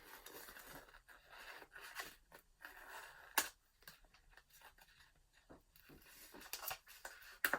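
Faint, intermittent snips and paper crinkles as a Jane's Agenda weekly planner insert is trimmed with scissors, irregular bursts close by and quiet, with no talk.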